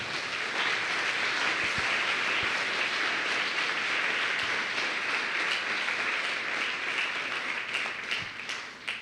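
A church congregation at a Sunday service applauds, dense sustained clapping across the room for about nine seconds, steady and loud, fading slightly at the end, with no voices over it.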